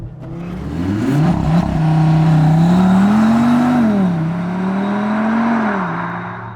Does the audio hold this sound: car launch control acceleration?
yes